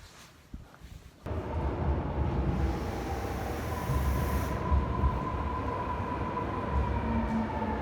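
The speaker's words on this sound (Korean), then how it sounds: "그래서 그냥 지하철을 타기로 결정을 했습니다." A Seoul subway train rides along with a loud, continuous rumble that starts abruptly after a quieter opening, and a faint whine rises and fades over the steady roar of the carriage.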